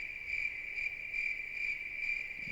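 A loud, continuous cricket trill from Lunar Eternal Blue, pulsing evenly and brightly over faint background hum, alone without any talk.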